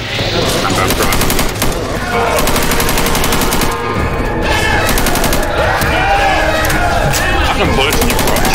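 Rapid automatic gunfire from Left 4 Dead 2, loud and nearly continuous bursts from several weapons overlapping, with in-game commotion underneath.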